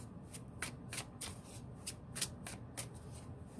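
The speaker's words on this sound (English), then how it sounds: "never mind me shuffling in the background like an idiot" Tarot cards shuffled by hand up close, a steady run of quick riffling snaps and flutters repeating about every third of a second, alone without talk.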